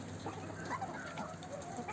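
A rooster and hens cluck in a farmyard, a few soft, close clucks over steady background noise, with no talking.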